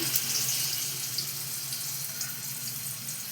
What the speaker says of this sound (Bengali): গ্যাস ধরিয়ে সাদা তেল কড়াতে দিয়ে দিয়েছি এবার আমি এক একটা করে হাতা দিয়ে দিয়ে আমি মালপোটা করব